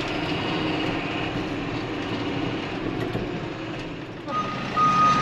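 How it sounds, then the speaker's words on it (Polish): Trucks hauling agricultural lime idle and rumble on a farmyard while a reversing alarm beeps steadily over the engine drone, moderately loud and continuous. "Przejechały dwa kolejne tiry z"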